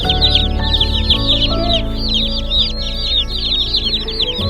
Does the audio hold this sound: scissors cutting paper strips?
no